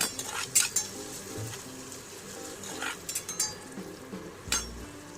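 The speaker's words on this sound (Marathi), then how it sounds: "हे पहा, कांदा आपला छान परतला गेलेला आहे" Onion fries in a pan for chole masala, a low bed of sizzle under scattered metal clinks and scrapes of a spoon against the pan, with one louder knock near the end, nearby and without speech.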